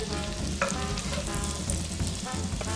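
Chopped shallots sizzle in melted butter in a pan and get stirred around, a close, continuous frying hiss broken by a few scraping strokes of the utensil.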